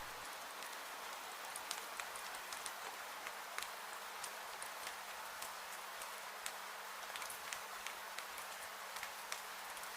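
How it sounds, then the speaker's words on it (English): Heavy raindrops drum steadily on a glass roof at night, a soft continuous patter with scattered sharper drop hits throughout, quiet and even with no voices. "Heavy raindrops drummed a peaceful rhythm against the glass roof"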